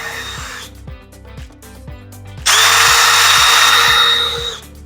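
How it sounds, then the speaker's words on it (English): A power drill bores holes through the plastic of a homemade garden tower, first in short bursts, then a loud sustained run of steady whirring, close up with no talk. "we're just going to drill until we can see the cutting board."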